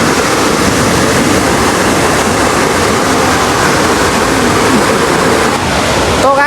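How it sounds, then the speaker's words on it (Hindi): Waterfall at Tiger Point in Mainpat, Chhattisgarh, a loud, steady broadband roar of falling water that fills the whole clip without a break, close and continuous, with no voices over it. "तो चलो आपको दिखाते हैं झरना का नज़ारा कैसा है उसको"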